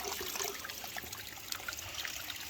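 Spring water trickling steadily along the Pacific Crest Trail near Los Coyotes, a close, continuous bubbling and splashing that runs the whole time with no voices.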